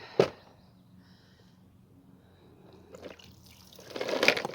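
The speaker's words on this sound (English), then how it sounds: "my caddy, I left it out when we had all that rain, so it's full of water. I'm going to dump out." Rainwater from an outdoor caddy left out in heavy rain is dumped onto the ground outdoors, a sharp drip-like splash at the start and then a louder, rushing pour of water building near the end.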